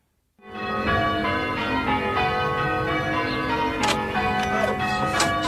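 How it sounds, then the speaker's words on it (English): A bell with a dull tone rings loudly, starting abruptly, and keeps humming with a sustained resonance. Faint ticking and clicks sit beneath it. "That bell with the dull sound."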